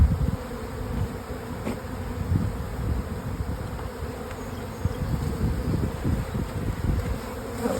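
Honey bees from a nuc hum in a dense, close, continuous buzz while being shaken into a hive box, with a few soft knocks and no one speaking.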